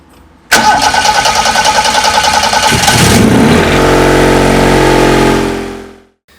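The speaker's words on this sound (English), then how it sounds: "So if these two things are flashing and if the red light stays lit, your engine is most likely going to start." An engine fitted with a NODIZ pro ignition ECU cranks briefly and then fires up loudly and close, settling into a rough steady idle with a low rumble before cutting off abruptly.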